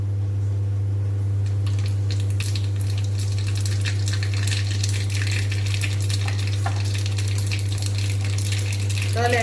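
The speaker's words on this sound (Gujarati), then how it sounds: "એમાં રાઈ જીરું એડ કરીશું આપણે." Mustard seeds and cumin sizzle and crackle steadily in hot oil for tempering, a loud continuous frying hiss with small pops, close up, with a constant low hum underneath.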